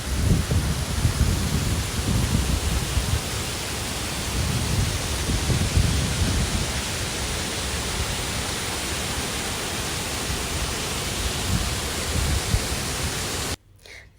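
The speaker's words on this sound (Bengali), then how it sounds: "দেখলেন মেঘের আর হাওয়ার কত জোরে মানে আওয়াজ।" Strong wind roaring with heavy rain in the hills on the Shillong to Cherrapunji road in Meghalaya, a dense continuous rushing noise with gusts swelling early, lasting throughout before cutting off near the end.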